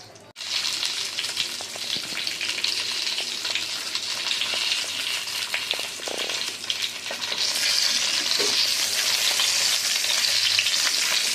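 Whole country tomatoes sauté in a hot oiled pan, giving a steady loud sizzle with occasional stirring scrapes that grows denser toward the end.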